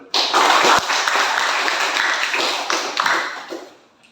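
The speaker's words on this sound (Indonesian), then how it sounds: "tepuk tangan dulu" Classroom applause from teachers gathered for group presentations in an academic supervision coaching session, a loud burst of dense clapping that starts abruptly and holds steady for several seconds before tapering off at the end.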